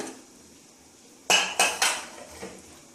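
A metal pressure cooker lid being opened after the whistle, heard as a few sharp close metallic clanks and scrapes in quick succession against a quiet background.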